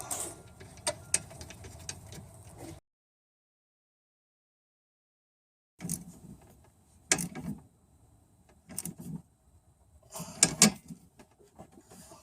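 A ratchet torquing a nut onto a stud on a new A/C condenser of a Chevy or GMC truck, in short bursts of rapid mechanical clicking separated by a silent gap, close and fairly quiet.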